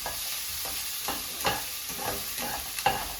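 Onion is stir-fried in a pan for chicken tomato spaghetti, with a steady sizzle under repeated rhythmic scrapes and taps of the spatula.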